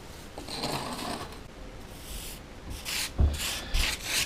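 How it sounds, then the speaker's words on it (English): A trowel handle scrapes along a mortar joint on a garage wall in a few short, gritty rubbing strokes, close and fairly quiet, with a couple of soft knocks near the end. "we'll just use our trowel handle just to get that line roughly right"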